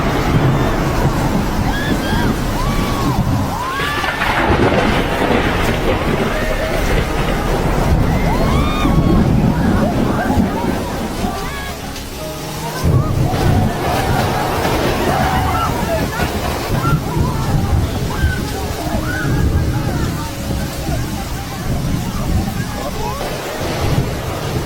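Floodwater sloshing and surging through a neighbourhood in Benguela province after heavy overnight rain, a steady broadband wash with gusts of wind buffeting the microphone and voices talking over it throughout.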